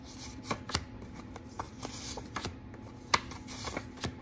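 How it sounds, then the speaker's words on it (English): Kindergarten sight word cards, cut in half, are handled and shuffled close by. They give soft, crisp flicks and taps in an uneven rhythm, with a few sharper snaps, in an otherwise quiet room. "So let me get my cards ready."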